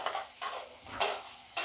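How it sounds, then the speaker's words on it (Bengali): Flattened rice (chire) frying in hot oil, with soft bursts of sizzling as small batches are stirred, separated by brief quiet gaps and a couple of sharper scrapes of a utensil against the pan. "ভালো ভাজা হচ্ছে।"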